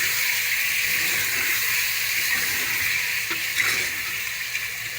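Ground chilli and coriander masala frying in oil for arvi gosht, a continuous close hiss of steady sizzling with slight crackles and no voices.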